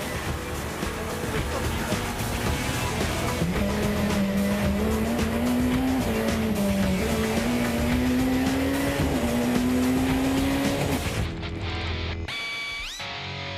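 Rally car on a snowy stage running cross-mounted studded and unstudded snow tyres, its engine droning loud and steady with rising and falling revs throughout, cutting off near the end.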